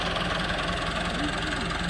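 A tractor engine idles steadily with a low, even rumble and a slight knock while the tractor and its trolley sit stuck, sounding near and unbroken and heard on its own.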